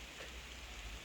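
Rain falls steadily, a dense, even hiss of drops on surfaces heard nearby without pause.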